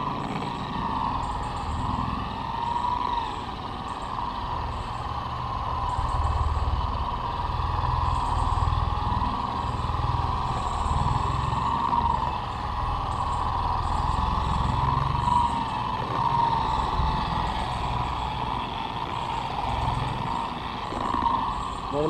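A car polisher runs on its lowest speed setting across a windshield, spreading polish with a continuous, even motor hum and whir that holds steady throughout.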